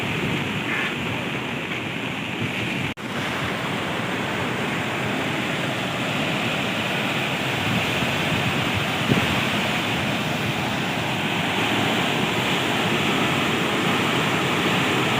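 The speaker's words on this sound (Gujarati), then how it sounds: "પાણીનો ફોર્સ જોવો તમે ખાલી કેટલા પ્રેશરથી પાણી જાય" A flooded village river rushes at high pressure past a tall bridge, giving a loud, continuous roaring wash with some wind mixed in; it stays steady throughout with no talking.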